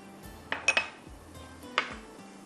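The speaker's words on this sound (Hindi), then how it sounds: "थोड़ा सा लहसुन को हम फ्राई करेंगे, अच्छी तरह से फ्राई हो जाए।" Fresh garlic going into a pan for garlic fried rice, heard as a few sharp metallic clinks and clatters of utensils against the pan, close and fairly quiet, with no talking.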